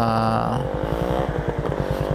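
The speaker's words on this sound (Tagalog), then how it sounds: "mabibilis na motor na dumadaan dito" A fast motorcycle speeds past on a road, its engine note rising and then falling into a rapid pulsing drone, loud and close.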